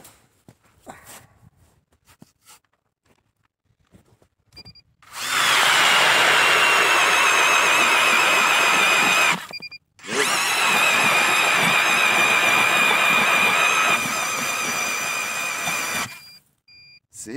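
A Strike Master 24-volt lithium ice auger bores through 23-inch ice with a loud, steady electric whine and grinding. It runs for several seconds, cuts out briefly, then restarts and keeps drilling before stopping, with faint sounds before it begins.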